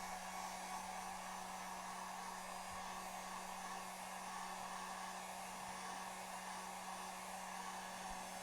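Heat gun or hair dryer blowing hot air onto an iPhone 6S, a constant airy roar with a steady low motor hum, unbroken and close for the full length.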